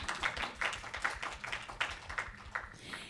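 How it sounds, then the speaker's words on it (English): Faint, rhythmic hand clapping from a small group, steady and distant, lasting a few seconds. "Yes, we can clap for that."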